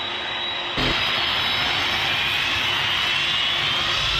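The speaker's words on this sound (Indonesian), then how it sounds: "Kita ikat kembang apinya di sayap pesawatnya, guys, kanan dan kiri. Oke, sudah siap. Lepas itu kita sumet kembang apinya." A toy airplane with fireworks tied to both wings gives off a steady, loud roaring hiss with a bright high whine, starting abruptly near the beginning and holding unbroken.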